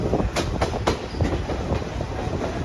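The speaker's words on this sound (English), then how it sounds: "this train ride never gets old" Passenger coaches of the NKP 765 steam excursion train rolling along the rails, with a steady clickety-clack of wheels over rail joints and a constant rumble heard from inside the moving train, no voices.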